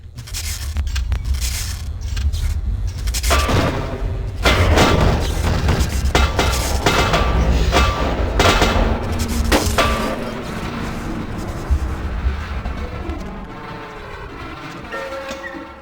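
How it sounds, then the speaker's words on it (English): Boilers exploding in the video game Vampire: The Masquerade – Bloodlines, a dense, loud rumble of booms and clanking metal that builds and then slowly thins out, with no voices. "as soon as you flip it, all of these boilers are going to start exploding"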